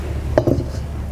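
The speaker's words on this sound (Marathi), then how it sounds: "आता आपण चुलीवर तवा ठेवूयात," An iron tawa griddle is set down onto a wood-fired clay stove, giving one short metallic clink followed by a softer second knock, close by against a quiet background.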